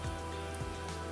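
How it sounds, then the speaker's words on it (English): Rain falls steadily on the Appalachian Trail, a constant soft patter on surfaces with a few heavier drips standing out, heard close and without any talk. "It's a rainy day."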